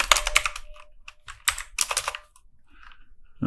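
Quick bursts of computer keyboard typing entering a short command, with crisp close key clicks, a brief pause, and a final tap at the end, with no voices.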